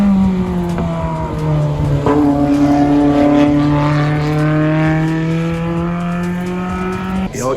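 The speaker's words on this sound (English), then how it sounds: "The car is running excellent." A car fitted with an Endless Auto "Killa Valve" idles steadily nearby, its engine a loud, continuous drone with a rev that dips and swells briefly near the start and again at the end; no one speaks.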